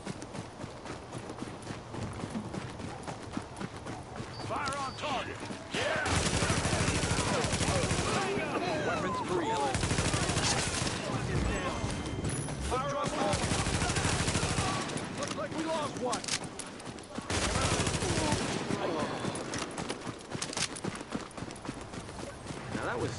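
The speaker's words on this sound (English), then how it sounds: "that was some shooting" Gunfire in the video game The Division, bursts of rapid shots in loud stretches over a busy, noisy game mix, with quieter gaps between volleys.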